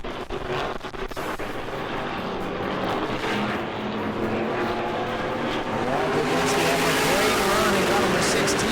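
E-Mod race cars roar around the New Smyrna Speedway during a feature race, a continuous loud engine drone that swells as cars pass, with a commentator talking over it.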